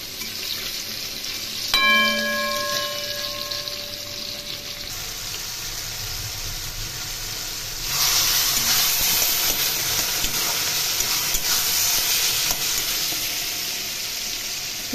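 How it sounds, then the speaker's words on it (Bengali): Hilsa fish frying in hot oil for a taro leaf and hilsa head dish, a steady loud sizzle with a brief ringing clink early on and the sizzle swelling louder partway through, no talking. "এদিকে ইলিশ মাছ ভেজে নিচ্ছি।"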